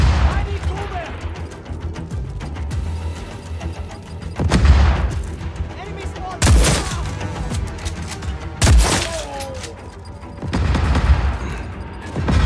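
Gunfire and explosions in the video game Just Cause 4, with repeated bursts and several heavy booms over continuous battle noise and occasional voices.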